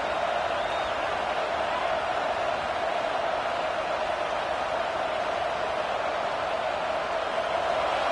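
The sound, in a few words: stadium crowd rising in an American football video game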